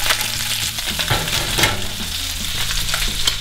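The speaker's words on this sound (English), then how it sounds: "I'm just going to fry the other side" Pork carnitas, already crispy brown on one side, fry in a pan with a loud, continuous sizzle, broken by a few scraping stirs and turning clatters, with no talking.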